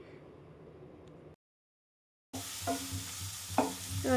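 Chilli flakes fry in a pan, a soft hiss with stirring scrapes, broken by a brief silent gap before louder sizzling and clatter resume.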